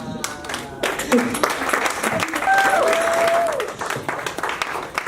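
Applause from a crowd with scattered cheering, a whistle-like tone rising above the clapping, voices mixed in throughout.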